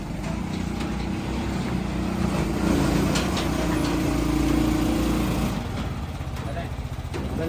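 An Uragan 250cc motorcycle engine runs at a steady idle on a sales display, a constant low rumbling drone that holds even throughout while someone talks over it.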